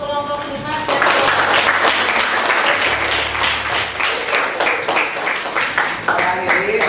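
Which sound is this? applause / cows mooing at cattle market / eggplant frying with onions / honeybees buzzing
applause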